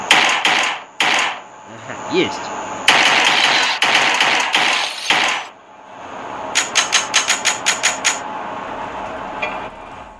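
Gunfire in a Hitman Blood Money clone mobile game on Android, heard as sharp bursts of shots. Some shots are grouped in dense clusters and others fire as a rapid string of evenly spaced cracks near the end, with a brief spoken word between bursts.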